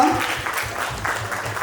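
Wedding guests clapping together during a ceremony, a steady dense patter of applause held for the whole moment, with voices faintly mixed in.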